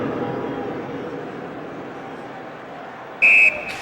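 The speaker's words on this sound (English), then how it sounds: "The whistle blows." A short, sharp referee whistle blast in the NHL 2001 hockey video game, sounding near the end over a low arena crowd murmur.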